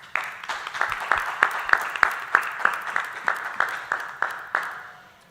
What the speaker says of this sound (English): So one more round of applause for round 6.